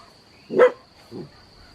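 A dachshund gives two short barks on command, the first louder and the second softer, with a faint steady tone in the background and no talk.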